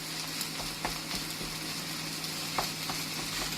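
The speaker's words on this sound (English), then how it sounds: "So I've been stir frying that now for about 3 minutes" Egg fried rice sizzles steadily in a hot wok, with occasional light scrapes and knocks as it is stirred and tossed, continuous and close.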